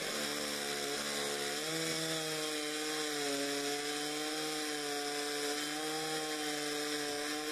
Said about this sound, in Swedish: Vrid stocken 90 grader och såga nästa snitt genom märgen